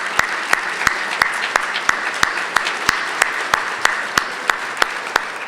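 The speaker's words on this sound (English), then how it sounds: "Let's give our 2 panelists a round of applause." Applause for two panelists at a Portland City Club forum on city government, sharp distinct claps at a steady, fairly slow rhythm standing out over a soft background, like one nearby clapper in front of a quieter room.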